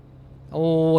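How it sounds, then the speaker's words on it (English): Truck engine in American Truck Simulator, a steady harmonic drone that swells louder halfway through as a cab window opens, growing near and full with a high whine above. "you're going to hear the truck's engine a little bit more"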